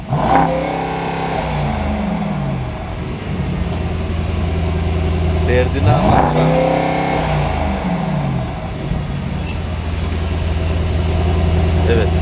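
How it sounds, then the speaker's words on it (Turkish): A Mercedes-AMG GT43 on stock software idles, then revs in a couple of rising and falling throttle blips, close and loud, with a steady engine drone throughout and brief speech over it. "Şimdi bu haliyle bir çalıştıralım, bir gaz vereyim."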